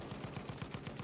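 Battlefield 1 gunfire sounds as a fast, evenly spaced automatic burst of about eight shots in one second, fairly quiet and without speech.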